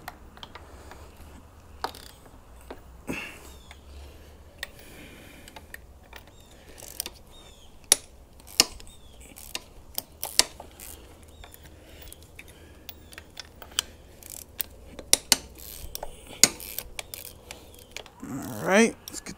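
A socket ratchet clicks in scattered bursts while loosening engine head bolts on a CFMOTO CForce 600 junk engine, with sharp metallic taps and clanks; a voice speaks now and then.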